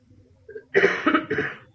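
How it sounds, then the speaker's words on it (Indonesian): A single close cough, a sharp burst followed by a couple of rougher throaty hacks, after a brief quiet moment, from someone speaking. "saya agak batuk ya"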